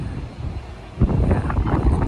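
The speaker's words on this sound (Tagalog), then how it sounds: "Mahangin kasi." Wind buffets the microphone with a low, rumbling roar that swells louder halfway through and keeps gusting.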